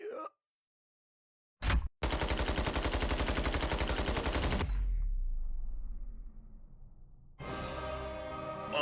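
Anime gunfire of armor-piercing bullets, a dense rapid burst of automatic shots close and loud, then a fading boom and a second rattling burst after a pause.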